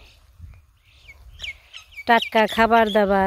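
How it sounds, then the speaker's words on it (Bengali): Birds chirp in short bursts early on in a village, then a voice talks loudly over them. "পশু পাখির ডাক শুনতে পেয়ে অনেক ভালো লাগে"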